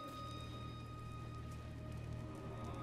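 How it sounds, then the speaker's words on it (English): Steady rain falls in God of War throughout, a dense, even hiss of drops on surfaces with faint tonal hum underneath and no voices. "Rain?"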